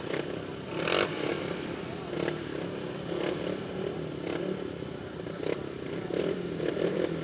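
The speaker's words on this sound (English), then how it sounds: "Division 1 is the epitome of speedway motorcycle racing." Division 1 speedway motorcycles racing on a track, a steady distant engine roar with rising revs and passing surges, under crowd noise and a commentator's voice.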